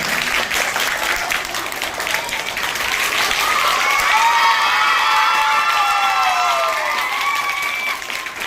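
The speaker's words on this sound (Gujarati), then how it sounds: "સરસ તાળીઓ કોઈ પાડો" An audience at a school Math's Day quiz claps loudly and continuously, mixed with cheering and children's excited shouts, a dense and close wall of sound throughout.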